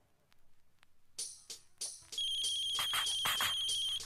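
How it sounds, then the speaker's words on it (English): A phone ringtone chimes in an electronic melody, starting after a few soft taps and then ringing loudly and steadily with a repeating bright tone, no voices over it. "Let me get the phone."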